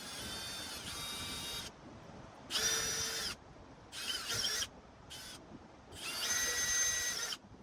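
A power drill bores into a Toyota 2ZZ engine with stuck piston rings, the bit worked in a circular motion. The motor runs in four or five separate whining bursts with short pauses between, close and fairly loud, no talk.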